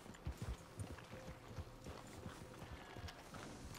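Horse hooves clip-clop in the Red Dead Redemption video game, a quick uneven run of soft thuds fading to a slower walking rhythm, faint and close with no talking.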